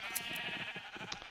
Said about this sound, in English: I'm shearing my sheep